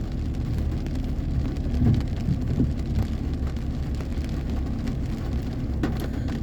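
Steady rain falls with a dense, even hiss over a low rumble, continuous throughout with no voices.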